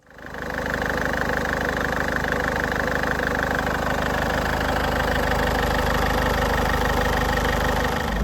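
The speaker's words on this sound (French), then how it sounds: "On va laisser tourner le moteur jusqu'à ce que le ventilateur du radiateur se déclenche." A car engine idles steadily and close during coolant bleeding after an overheating and coolant warning light fault, a constant low rumble with a faint knock that runs unbroken for the whole stretch.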